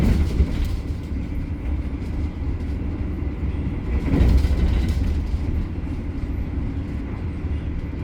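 Argo Bromo Anggrek executive class train running on rails near Subang, a steady close rumble of wheels on track heard from inside the carriage, with faint rhythmic clatter and a brief swell midway.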